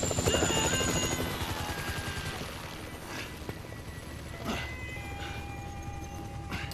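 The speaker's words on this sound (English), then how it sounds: "Yeah, chopper! Is incoming!" A helicopter in GTA 5 approaches with a loud, continuous whirring rotor chop and engine roar that holds steady throughout, alone without speech.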